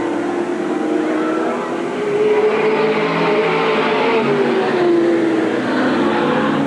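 Race cars at Eugene Speedway in 1987 drone around the track, a steady engine roar with a rising and falling tone as cars pass through traffic.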